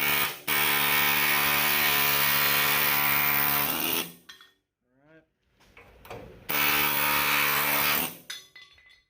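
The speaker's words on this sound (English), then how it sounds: "I went ahead and just want to pass around it with the cutoff wheel and the grinder" A cutoff wheel grinder cuts around the rivets on a 1959 Willys CJ-5 frame during teardown. It whines loudly and steadily in two long bursts, with a short quiet gap and some clatter between them.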